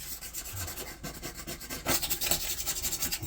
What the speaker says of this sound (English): Try and get this lime scale off.